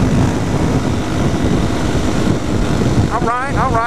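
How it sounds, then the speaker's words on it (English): A KTM 450 SMR supermoto motorcycle engine drones steadily, loud and close, with a rising rev sweep near the end and people talking over it. "I believe that is a KTM 450 SMR."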